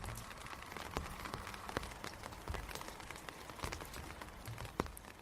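Soft, steady rain patters down on a country garden with scattered drops tapping on surfaces, quiet and continuous throughout.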